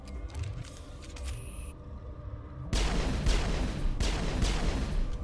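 Pistol fire in the Mass Effect game, heard as loud broadband bursts that cut in sharply after a quieter stretch and repeat a few times, dense and close with no talking.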